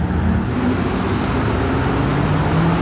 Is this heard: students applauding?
no